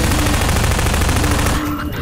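Rapid automatic gunfire from a weapon in the video game Half-Life 2, a dense continuous burst of shots lasting most of the moment before cutting off abruptly, with no talk over it.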